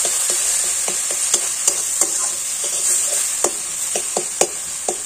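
Paneer, capsicum and tomato being stir-fried in a pan give a steady, close sizzle, with a spatula scraping and tapping the pan in irregular clicks throughout.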